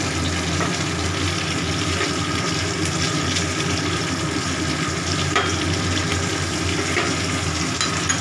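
Bay leaf, whole cumin, garam masala and sugar tempering in hot oil, a loud dense continuous sizzle and crackle held steadily throughout, close up with no speech.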